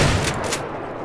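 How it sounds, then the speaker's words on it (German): Machine gun fire in the video game Battlefield 3 rattles in a dense, loud burst of rapid shots over about a second. "Na, da knallt es aber ganz schön."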